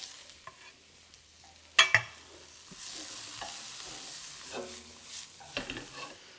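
Carrot stir-fries in a hot wok, a faint sizzle broken by sharp clanks and scrapes of the utensil against the metal, with one louder clatter early on and softer stirring after.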